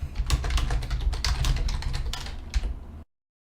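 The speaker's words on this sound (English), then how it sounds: "This is what it currently sounds like when I type." Close, fast typing on a computer keyboard, dense rapid keystroke clatter for about three seconds before cutting to silence, no voices.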